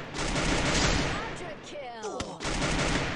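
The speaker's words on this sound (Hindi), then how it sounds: "एक लेफ्ट वाले पे पांडे देखना स्नाइपर मार रहा है" Gunfire in a free-for-all battle royale shooter match, dense rapid bursts of shots crackling loudly with brief gaps and whizzing tones between them, while players talk over the action.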